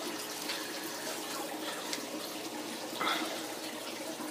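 A homemade aquarium trickle tower filter built from ordinary plastic bowls sends water trickling down in a steady, continuous wash, with a slightly brighter splash near the end.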